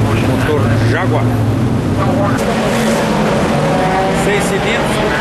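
A Lister race car powered by a Jaguar six-cylinder engine with three Solex 32 carburettors runs steadily and loudly at a racing circuit, its engine drone continuous beneath people talking.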